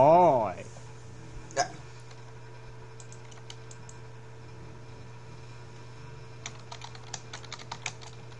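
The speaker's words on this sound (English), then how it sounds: "Watching how he's typing." Computer keyboard typing comes as scattered light key clicks, a few isolated taps early and a quicker run of clicks near the end, faint over a steady low hum, with a brief voice at the start.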